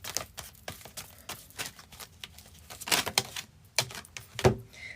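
Tarot cards are shuffled up close in a quick series of riffling, papery bursts and soft taps, fairly quiet and uneven, with no talking.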